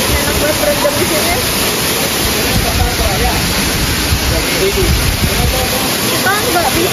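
Temesi waterfall roars as a steady, loud rush of falling, splashing water filling the whole scene, with faint voices of people in the background.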